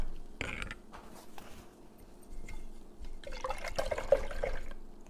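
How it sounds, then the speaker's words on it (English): Paintbrush being rinsed in a water container, a brief splash at first, then a longer stretch of swishing, sloshing and tapping against the container, close and moderately loud. "So now I'm just going to rinse my paintbrush. Really get all that color out"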